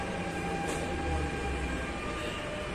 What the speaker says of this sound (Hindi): अपनी ट्रेन आ चुकी है